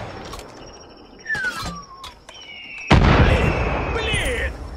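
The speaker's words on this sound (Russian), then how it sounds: "мина, которая взрывается?" A mine blows up in the video game Far Cry New Dawn, a sudden loud boom about three seconds in that lingers as a rumbling burst, with earlier gunfire pops, whistling game effects and soft talking underneath.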